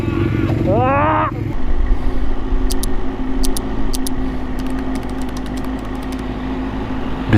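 A motorcycle engine runs with a steady, loud drone that continues to the end after a short burst of rising revs at the start, with sharp clicks and ticks scattered over it.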